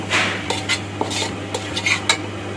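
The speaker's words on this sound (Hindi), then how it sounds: "1 कटोरी जो है वो सूजी की डाल देंगे और इसको अच्छी तरह से हम भून लेंगे" Semolina roasting in ghee in a pot is stirred with a metal spoon, giving a faint sizzle under quick, close scraping and clinking strokes in an irregular rhythm, with no talking.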